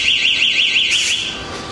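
A personal rape alarm from a small Cambridgeshire maker gives off a loud, piercing electronic shriek that warbles up and down in a steady rapid rhythm, then changes to a harsher, flatter blare near the end, close up and alone.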